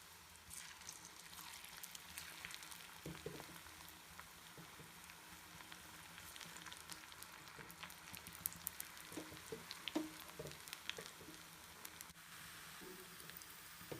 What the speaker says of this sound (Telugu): ఇప్పుడు మిగిలిన పిండితో ఇంకొకసారి పకోడీలాగా చేసేస్తున్నాను